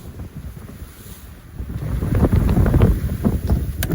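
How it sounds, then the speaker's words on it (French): Strong wind roars across a sailboat at sea, a loud gusting rush that builds midway, with water and waves sloshing against the hull underneath and no voices. "J'ai déjà quand même beaucoup de vent."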